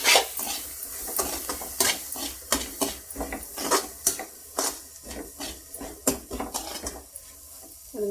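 Kashmiri chili powder sautéing in oil in a pan for egg fried rice, a soft sizzle under repeated rhythmic scrapes and taps of a spoon stirring close by.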